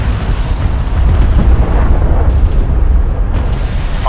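Armored vehicle destroyed under gunfire in the desert strategy game Homeworld: Deserts of Kharak, a dense, rumbling blast-like roar that holds loud and steady for several seconds with no voices.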